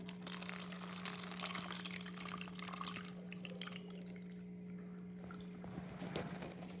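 Water poured into trash cans to mimic rain gives a faint, steady splashing and trickling throughout, heard from a distance over a low background hum, with no talking.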